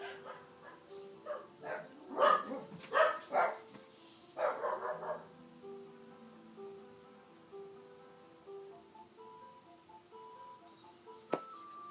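A dog barks indoors in a short run of sharp barks and yips, then the barking fades out, leaving a soft tonal hum and one faint click.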